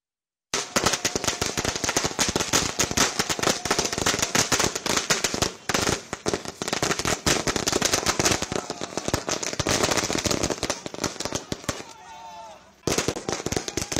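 Dense, continuous crackling bursts of firecrackers and fireworks set off by political supporters at a celebration, loud and rapid with brief lulls, and voices mixed in beneath the popping.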